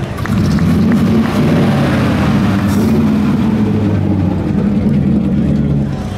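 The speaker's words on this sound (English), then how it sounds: "This is the Duesenberg. Rolston body. 40 miles an hour." A Duesenberg with a Rolston body drives by at about 40 miles an hour, its engine a loud, steady low rumble that holds throughout before easing slightly at the end.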